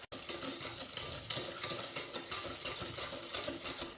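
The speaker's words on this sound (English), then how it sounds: "First thing I do is mix the sugar and the eggs and give it a good mix." Sugar and eggs being mixed in a bowl for a poppy seed cake, a close, continuous rhythmic whisking and scraping that repeats steadily throughout.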